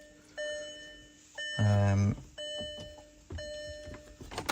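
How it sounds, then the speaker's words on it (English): A VW Touareg's dashboard sounds a series of electronic warning chimes as the ignition is switched on, with other fault errors present; repeated bright beeps in separate bursts, one louder, lower tone in the middle, heard close with no talking. "ignition on, we will get quite a few beeps because there's a few other errors on this car"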